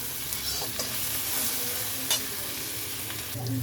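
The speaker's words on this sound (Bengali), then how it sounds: "চর্বিগুলো দিয়ে একটু নাড়াচাড়া করব।" Goat fat pieces are stirred through sizzling masala in oil, a low steady frying hiss with occasional scraping clicks of a spoon against the pan.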